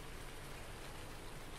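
Steady rain falls in Farming Simulator 19 on the Felsbrunn map, heard during a rainy mowing and delivery session as a continuous dense hiss of drops with no pauses, even and unbroken throughout, with no voices over it.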